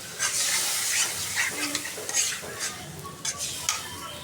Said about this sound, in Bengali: এখন কষাই নিব ভালোভাবে।